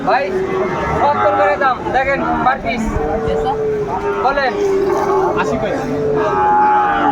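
Sahiwal cattle at a rainy livestock market in Manikganj, with drawn-out lowing close by mixed into the steady talk of people nearby.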